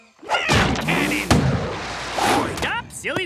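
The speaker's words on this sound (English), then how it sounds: "Ham cannon!" A cartoon ham cannon fires in an animated jungle scene: one sharp, loud broadband blast cuts through busy cartoon effects, with swooping tones before and after.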